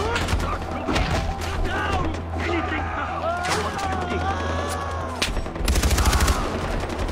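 Gunfire from the video game Far Cry 4 in co-op play: repeated shots and machine-gun bursts crackle in close, ending in a dense rapid volley, with voices talking over parts of it.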